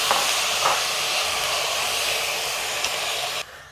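Washed beef tipped into a hot pan for a homestyle Kerala beef curry sizzles with a loud, steady hiss that runs on unbroken before stopping abruptly near the end.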